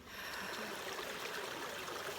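Creek water at an Appalachian Trail campsite, flowing and trickling steadily, close and continuous with no voices.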